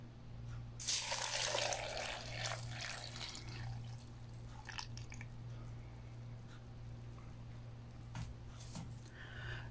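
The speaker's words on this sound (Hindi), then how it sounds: "बीच में मिल्क डाल लें।" Milk is poured into a blender while making a banana shake, giving a short splashing gush near the start that fades to a soft trickle over a steady low hum.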